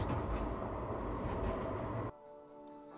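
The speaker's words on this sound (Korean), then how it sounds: "상태 점검을 마치고 출발하는 트램" A tram pulls away on a driving test after its condition check, a steady rolling rumble with faint rail clicks that drops abruptly to a quiet hum near the end.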